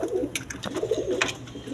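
A restless pair of modern pigeons, a male and a female, coo softly and close by, with short repeated throaty calls over faint background noise.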